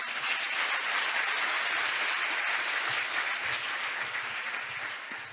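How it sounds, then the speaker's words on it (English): Audience applause fills a hall after a speech at an international development conference in Seoul, a steady dense wash of clapping that holds strong throughout and only starts to thin near the end. "Thank you for those generous for applauding me and encouraging me so much."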